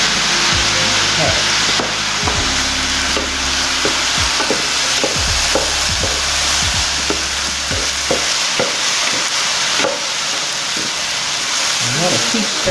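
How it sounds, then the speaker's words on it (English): Spam fried rice is stirred in a hot wok, a spatula scraping and knocking in an uneven rhythm over a continuous close sizzle. "I'm going to keep stirring until it gets all mixed in"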